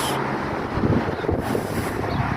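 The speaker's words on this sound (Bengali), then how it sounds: "অনেকটাই বাতাস, অনেকটাই বাতাস।" Strong outdoor wind buffets the microphone in a steady, loud roar of low rumble and broadband noise that runs through the whole moment, with no speech.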